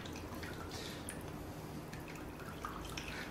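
Water drips and trickles softly from a bag of squeezed homemade cheese, a faint, steady patter of small droplets with no voices.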